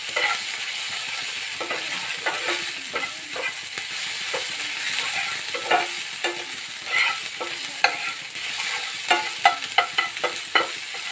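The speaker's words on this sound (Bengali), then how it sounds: "1 চামচ আদা রসুন বাটা। কমিয়ে দিচ্ছি গ্যাসটাকে একটু।" Ginger garlic paste frying in a pan for an egg and aubergine curry, a bright continuous sizzle broken by frequent scraping stirs and clinks, close and fairly loud, with no talking.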